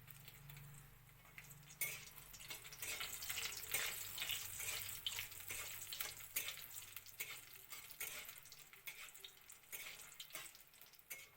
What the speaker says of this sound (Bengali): পরের মধ্যে আটটু তেল দিয়ে দিই তারপর শুকনো মরিচ কয়েকটা